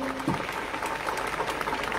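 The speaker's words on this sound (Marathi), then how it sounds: "एकदा जोरदार टाळ्या त्याच्यासाठी होऊन द्या" Audience applause for a political leader at a public meeting, a dense, steady wash of clapping that runs through the whole moment without a break.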